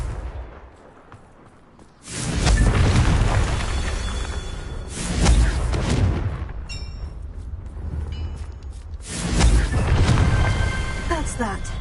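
Confringo blast spell explosions in Hogwarts Legacy: three loud, booming bursts, each with a long crackling, rumbling tail, spaced a few seconds apart after a quieter opening, with a voice speaking over them.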